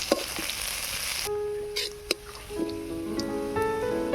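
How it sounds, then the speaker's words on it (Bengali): Dried red chillies and garlic paste fry in hot oil for a spice tempering, giving a loud, close, hissing sizzle that cuts off after about a second, followed by faint clinks and a soft, steady bubbling. "ফোড়নটাকে ভালো করে ভেজে নেব।"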